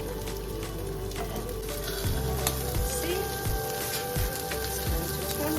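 Salmon fish bones fry in oil under a loose sheet of aluminum foil, giving a dense, loud, crackling sizzle that runs without a break, with some low bumps and faint speech beneath it.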